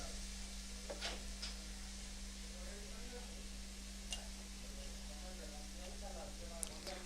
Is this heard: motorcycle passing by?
no